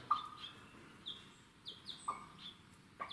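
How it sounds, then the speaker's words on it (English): Two guinea fowl sheltering under a hen give short, rasping chirps, several scattered calls repeating at irregular intervals. They sound close but fairly soft against a quiet background. "the two guineas have stayed underneath Mum, doing that growling, well, that rasping chirp"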